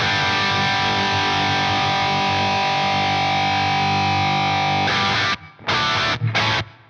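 Distorted electric guitar playing sustained rhythm chords through an FAS AX8 with light reverb and delay, giving a thick, slightly spacious tail, stopping abruptly near the end with a few short choppy bursts.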